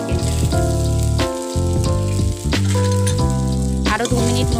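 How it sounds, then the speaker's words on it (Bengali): Chicken and pasta sizzle and fry loudly in a pan with steady, close crackling and occasional stirring scrapes, no voices present. "আরও 2 মিনিট মতন আমি অনবরত নাড়িয়ে চাড়িয়ে ভেজে নেব"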